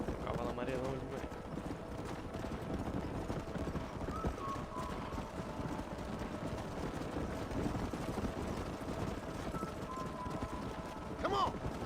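Horse hooves clip-clop at a steady walking rhythm in the Red Dead Redemption video game, with a brief whinny and a few game sounds mixed in, while someone talks over them.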